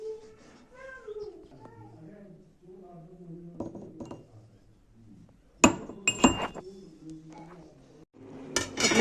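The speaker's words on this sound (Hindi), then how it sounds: "तो पहले हम लहसुन कूट के रखेंगे।" Sharp, irregular pounding knocks, as of a pestle crushing garlic in a mortar, come in clustered bursts between stretches of talking nearby.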